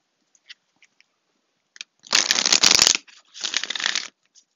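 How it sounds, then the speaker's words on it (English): A deck of oracle cards is shuffled close up: a few light taps and flicks, then two dense papery riffling bursts, the first louder and longer, in a quiet room with no talking. "let's go ahead and get you a Wisdom of the Oracle card"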